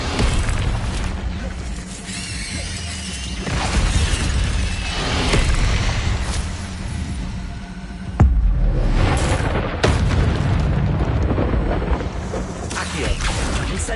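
A fire spell cast in a wizard video game, loud whooshing bursts and booming impacts recurring over a dense, continuous game soundscape, with a voice shouting spell names over it.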